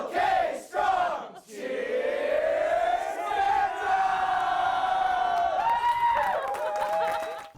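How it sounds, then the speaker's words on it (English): A group of people cheers and yells together in a sustained, loud roar of voices lasting several seconds, with pitch rising toward the end. "So they cheer for her before every show."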